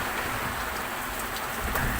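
Driving rain in a 35-knot squall beats on a sailboat at sea, a dense steady roar of drops and spray, loud and close with no voices.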